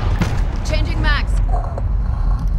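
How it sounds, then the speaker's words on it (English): Magazine swap in Call of Duty Modern Warfare during a team deathmatch, a short series of mechanical clicks and metallic creaks over steady game noise, with a character's voice calling out at the same time. "Changing mags."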